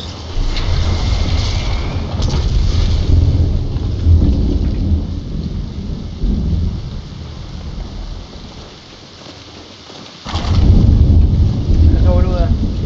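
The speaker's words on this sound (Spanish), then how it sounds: "A veces hay saliendo tormenta" Loud rain and rumbling thunder from a thunderstorm in Fortnite Lego, steady downpour dipping briefly before a heavy thunder crack returns near the end, with no voices.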